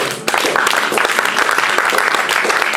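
A church congregation at a prophetic prayer gathering breaks into loud, sustained applause and cheering for Jesus, a dense crowd sound starting abruptly and continuing throughout.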